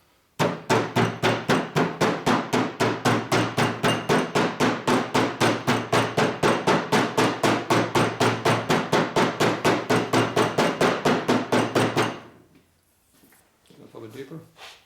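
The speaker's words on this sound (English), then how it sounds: "you hold the hammer at an angle and beat it at an angle like that," A hammer beats a seal into a 2004 Harley-Davidson FLHT Twin Cam touring transmission case, a fast, even run of about fifty loud, close metallic taps, then a pause and a quiet voice.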